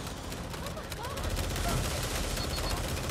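Rapid automatic gunfire in the Watch Dogs zombie mode rattles on for several seconds as a full magazine empties, with dense overlapping shots and faint voices in the background.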